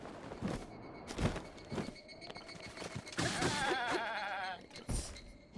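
A goat in Zelda: Breath of the Wild gives a wavering bleat in the middle of the stretch, amid game ambience, footsteps and other effects, moderately loud and fairly close.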